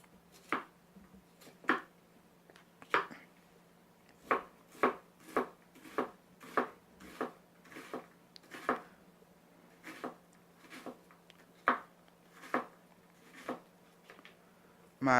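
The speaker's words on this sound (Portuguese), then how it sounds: "como essa faca penetra facilmente na cebola, sem a menor força" Xituo knife with a stabilized wood handle chopping an onion on a board, about twenty crisp, evenly spaced cuts, close and clear over a quiet background hum.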